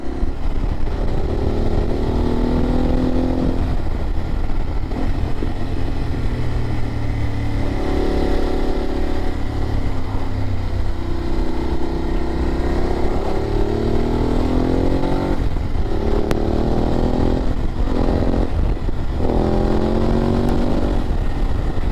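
BMW 850 GS motorcycle engine while riding, a loud, close, continuous roar whose revs rise and fall through gear changes, with steady wind rush throughout and no talking.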